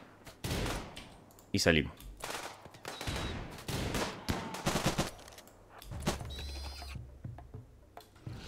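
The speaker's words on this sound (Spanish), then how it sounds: "Vamos a efectuar algunos tiros." Bursts of gunfire in the video game Rimworld crack out in irregular volleys, some sharp single shots and some rapid clusters, while someone speaks over the action.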